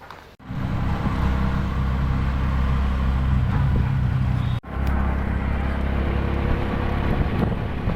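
Steady engine rumble and road noise from inside a moving auto rickshaw in Nalasopara, loud and continuous with wind buffeting, broken by a brief dip partway through.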